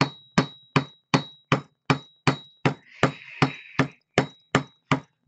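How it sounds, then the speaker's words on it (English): Coil wire hammered flat for vape coil building, a dozen sharp, loud metallic strikes at an even steady rhythm, with a brief hiss in the middle. "You gonna hammer yours too, Matt, or no?"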